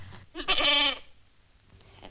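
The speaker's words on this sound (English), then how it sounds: "They bought us a goat as a present." A goat, given as a gift, lets out a single loud, close bleat with a wavering, nasal tone, followed by quiet background and a faint shorter sound.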